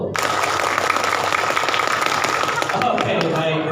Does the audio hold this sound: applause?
yes